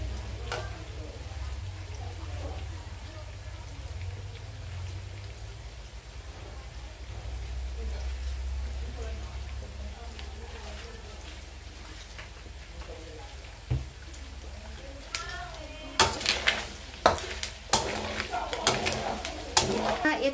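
Pork rinds fry in oil in a pan while being stirred, a steady soft crackling sizzle over a low hum, with sharper scraping clatters of the stirring near the end.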